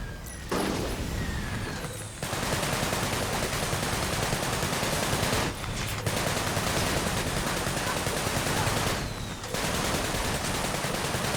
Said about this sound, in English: I'm going to use my rivet blaster.